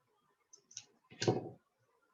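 A few small, close snips and clicks of jewelry wire being cut with hand cutters while making beaded jewelry, quiet and brief with no talk.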